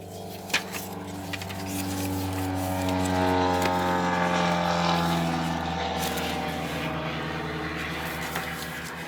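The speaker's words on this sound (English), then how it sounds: "An airplane flying overhead." A propeller airplane drones overhead, a steady low engine hum that swells and fades slowly, heard from a distance with no talking.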